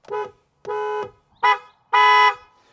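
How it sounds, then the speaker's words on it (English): Four loud car horn honks from a 2023 Mazda CX-8 SUV, alone and close, the first three short-to-medium blasts and the last one held longest. "Now, horn sound, this is what it sounds like."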